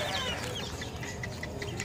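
Farm chickens cluck and murmur softly in a steady, busy backdrop, with scattered brief calls rising above the continuous low flock noise throughout.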